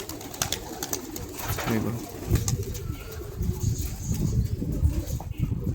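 Young homing pigeons return to and settle on a rooftop cage, with cooing and occasional wing flutters over a steady outdoor hum while someone talks close by.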